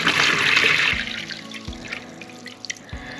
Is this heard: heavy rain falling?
no